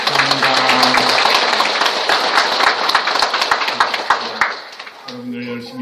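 A church congregation at Mass on Laity Sunday claps together in a loud, crisp burst that thins out toward the end, after which a voice resumes speaking.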